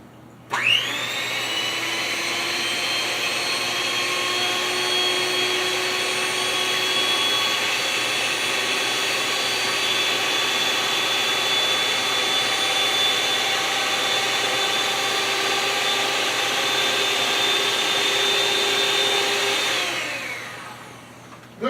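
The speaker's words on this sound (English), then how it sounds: "It's just a handheld mixer. It's attached to a stand" Handheld electric mixer mounted on a stand runs steadily for about twenty seconds, a loud continuous motor whine with a constant pitch, starting abruptly and cutting off at the end, with no talking.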